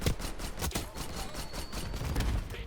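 A Maelstrom shotgun hip-fired in the video game Black Ops 6, a rapid series of loud, punchy blasts in a fast, steady rhythm throughout.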